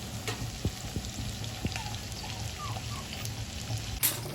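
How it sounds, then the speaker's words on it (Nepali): Chicken frying in a pan, covered for a couple of minutes after salting, gives a steady soft crackle and sizzle with a few sharper pops, close and continuous with no voices. "चिकन पनि राम्रोसँग फ्राई हुन लागिसकेको छ।"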